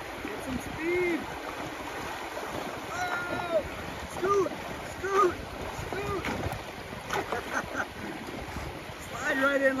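A kayak moves through a stream over a beaver dam, with water sloshing and splashing around the hull in uneven bursts beside flowing water, while people talk and call out over the scene.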